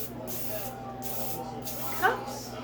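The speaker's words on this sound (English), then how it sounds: "So I'm going to spray our cupcake" Cooking spray hisses briefly into cupcake cups during gluten-free cake baking, a soft short burst over a steady background hum.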